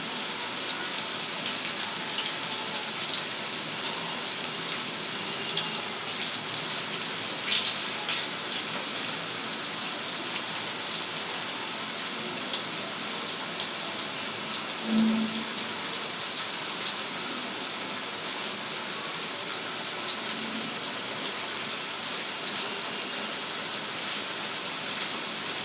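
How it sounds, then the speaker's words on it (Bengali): Bitter gourd (kakrol) frying in a pan gives off a steady, dense sizzle and hiss that runs unbroken, fairly loud and close, with no voices over it. "নেড়ে ছেড়ে ভালো করে ভেজে দিতে হবে।"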